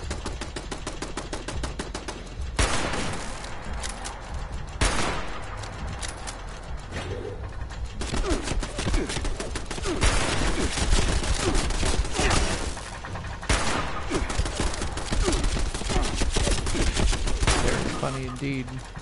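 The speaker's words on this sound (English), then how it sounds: "I'm getting attacked by someone. Oh, by all of his turrets." Automated turret gunfire from an enemy player's camp in Fallout 76 on PS4, rattling in rapid, sustained bursts with loud, crackling shots that continue almost throughout.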